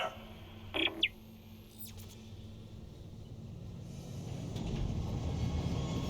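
A tram pulls in within the game Dead Space Remake: a few sharp clicks and metallic tones at first, then a low rumble that builds steadily as the tram approaches, fairly faint overall.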